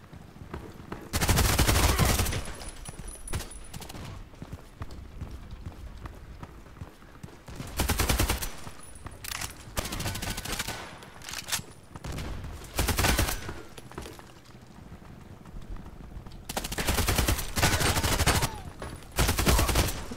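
AN-94 rifle in Contract Wars, an online shooter, firing repeated bursts of rapid automatic gunfire, loud and close, separated by quieter stretches of ambient game noise.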